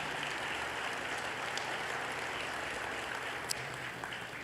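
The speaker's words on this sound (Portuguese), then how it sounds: "Você pode aplaudir o Senhor Jesus?" Church congregation applauding, a dense, even roar of clapping held steady throughout, fairly loud and diffuse as if from a large crowd.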